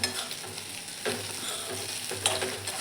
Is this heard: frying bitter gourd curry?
yes